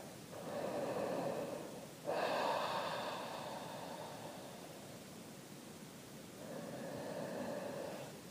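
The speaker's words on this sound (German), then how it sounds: "Und dann kannst du hier kräftig atmen." Forceful yoga breathing in a kneeling forehead-to-floor pose, long loud breathy exhalations and inhalations close to the microphone, about three strong breaths with no talking.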